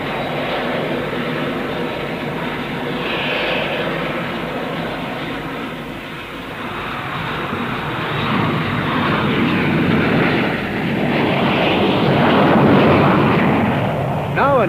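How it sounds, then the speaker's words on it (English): A VTOL fighter jet makes a gentle spot landing at the Farnborough air show, its engine a loud, continuous roar that swells and ebbs slightly without a break. "A gentle spot landing makes a fitting climax to this convincing demonstration of the VTOL fighter."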